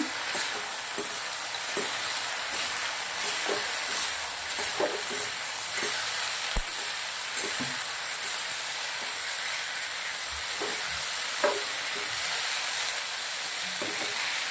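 Chinese bhel with roasted sesame seeds is stirred in a hot pan, a continuous sizzle broken by scattered clicks and scrapes of the spoon against the pan.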